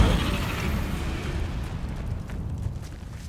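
Incendio fire spell cast in Hogwarts Legacy, a roaring burst of flame with a deep rumbling whoosh that starts strong and slowly fades, crackling faintly toward the end.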